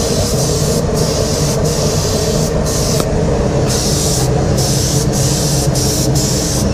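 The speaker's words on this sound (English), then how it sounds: "we swap sprays for a lubricating spray" A loud, continuous hiss of lubricating spray onto a die for casting a four-barrel throttle body, with short breaks between bursts, steady and close, over a constant mechanical hum.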